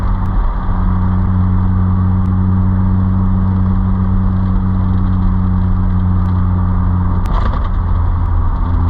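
A 2003 Mitsubishi Eclipse GTS Spyder with a 3.0L V6 and manual gearbox drones steadily from inside the cabin while driving at slower speeds, its engine note holding loud and even with a brief surge near the end.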